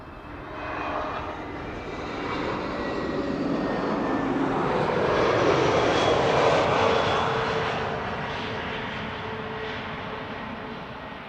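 An Airbus A320neo airliner's engine roar swells as it arrives at Amsterdam Schiphol Airport, peaking midway and then easing off, a steady broadband rumble with no voices.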